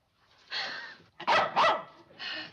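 A dog barks in a 1960s TV sitcom scene: a short, sharp volley of several close barks with a brief pause between bursts, standing alone without talk.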